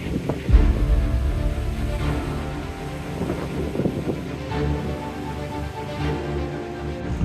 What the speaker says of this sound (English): It's very windy and a bit wet outside.